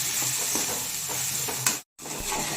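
Peanuts sauté on a low flame, giving a steady close hiss and crackle with light stirring, broken by a brief cut to silence before the frying resumes.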